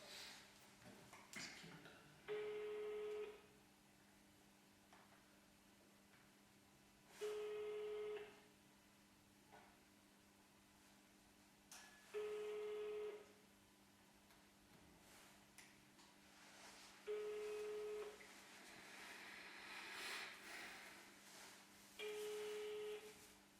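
Telephone call tones on a line, five evenly spaced steady beeps about every five seconds over a faint, constant hum, with no speech.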